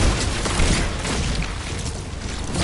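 Mortar explosion in Fortnite: a dense, loud booming roar with crackling bursts, sustained and filling the whole moment without talk.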